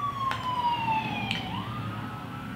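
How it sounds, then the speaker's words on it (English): An emergency vehicle siren wails outside, its tone sweeping up and down through a couple of cycles, faint and distant as heard from indoors, with no talking. "Do you guys hear that siren?"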